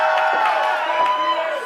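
Capacity crowd at a pro wrestling show cheering and whooping, a dense roar with sharp shouts rising above it, loud and sustained.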